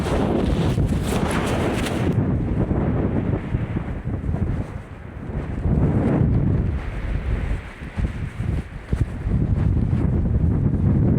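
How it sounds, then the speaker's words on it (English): Strong coastal wind in Ireland buffets the microphone nonstop, a loud roaring rumble that surges and dips, with faint water sounds beneath. "this is probably way too windy"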